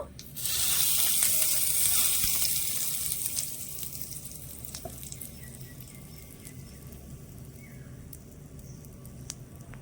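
Whole cumin, mustard seeds, a dried chili and curry leaves crackling in hot oil, a loud burst of sizzling at the start that settles into a steady, softer frying hiss with occasional pops.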